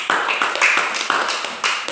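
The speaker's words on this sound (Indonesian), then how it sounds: "tepuk tangan untuk kita semua" Classroom audience clapping after an Islamic history lesson presentation, a short burst of sparse, uneven hand claps from a small group, close and moderately loud.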